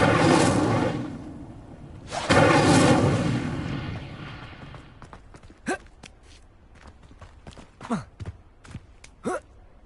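Incendio fire spell being cast in Hogwarts Legacy: two loud whooshing bursts of flame roar in succession, followed by quieter scattered crackles and sharp thuds as the blaze dies down.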